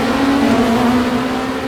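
Lamborghini LMDh race car in the RaceRoom racing game, a loud sustained engine drone holding a steady pitch at speed, with no talk.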